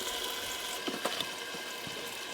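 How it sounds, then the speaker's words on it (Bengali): Potatoes frying in oil for aloo dum, a steady soft sizzle with a few brief crackles and faint stirring clicks, close by and with no talking. "চাপা দিয়ে দিয়ে আলুগুলো ভালো করে ভেজে নেব।"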